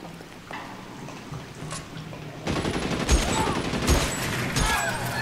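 Rifle gunfire during a tunnel fight in the video game LA Noire: a quiet, murky start gives way to a rapid run of sharp shots and echoing bursts over steady background rumble.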